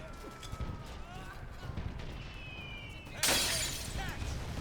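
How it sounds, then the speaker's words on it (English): Glass shatters loudly indoors in the World War II shooter RAID: World War II, a sudden bright crash that rings out amid game effects and gunfire-like noise, with people talking in the background. "you hear what I mean about the glass shattering?"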